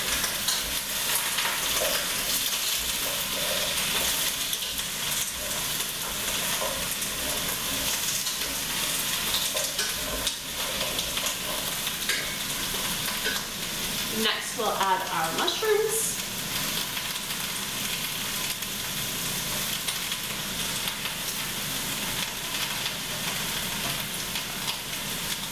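Vegetables for a broth sautéing in a pot, a steady sizzle heard close with occasional stirring knocks, a brief soft voice in the middle.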